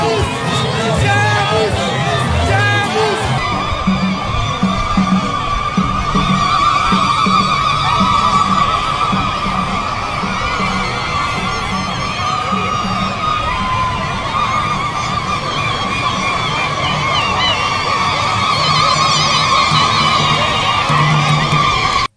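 A large crowd greeting the president of the Republic on a walkabout, a dense roar of cheers, whoops and shouts that carries on without a break at full loudness, with a voice talking over it.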